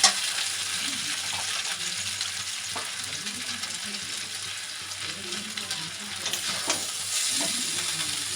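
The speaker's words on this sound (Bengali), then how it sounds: "এই ছোট কড়াইতে এত কিছু এতগুলো নাড়াও খুব মুশকিল" Steady sizzling of chow mein noodles stir-frying in a small wok, with scraping stirs breaking in now and then throughout.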